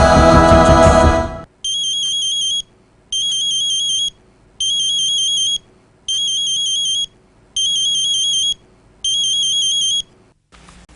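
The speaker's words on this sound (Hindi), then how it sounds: "मम्मा जल्दी आइए, विनीत भैया का फोन है।" A short burst of noise gives way to an electronic ring that repeats six times in even pulses with short gaps between, loud and close.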